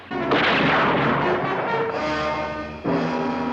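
Gunfire in a puppet shootout among rocks on the Supercar TV series, sounding as loud, dense blasts with a rumbling tail, then a fresh burst near the end.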